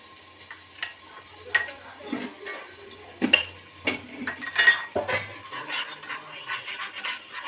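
Ginger paste and spices stir-fry in a pan for chicken butter masala, with repeated spoon scrapes and clinks against the pan over a light sizzle, close by and without talk.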